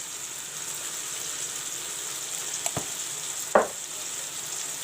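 Tomato frying with ginger garlic paste in a pan gives a soft, steady sizzle, with a couple of sharp utensil knocks near the end.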